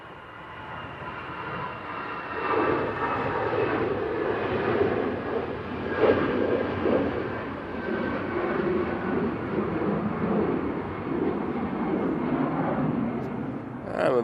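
Brussels Airlines plane departing Manchester Airport on a windy day: a steady, loud jet roar that swells and holds throughout, heard from the spotting area with a voice talking faintly over it.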